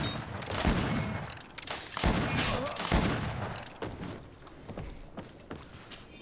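Gunshots and combat clatter in the video game GreedFall: several heavy, sharp cracks spaced a second or so apart over a busy rumbling bed of scuffling and clatter, loud and close, with no speech.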